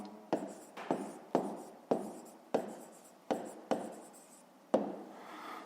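A pen writes numbers for a fifth-grade math exercise in close, quiet strokes: about eight crisp scratching marks in a steady rhythm, each fading quickly, with no voice over them.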